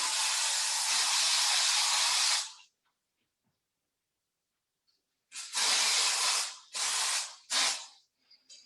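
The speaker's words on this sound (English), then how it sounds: "I'm going to put a little bit of texturizing volume spray" Texturizing volume hair spray hisses from an aerosol can in one long burst, then after a pause three short bursts follow, close and fairly loud.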